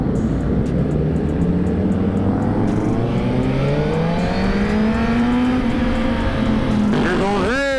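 Suzuki GSX-R1000 superbike engine droning steadily at close range on a highway, pitch climbing slowly through a long pull before sharp rising revs near the end, with wind rush and other bikes around.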